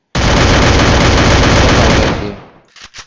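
Sustained automatic fire from a UMP submachine gun in the Free Fire game, a loud rapid burst lasting about two seconds before trailing off, followed by a couple of short faint clicks.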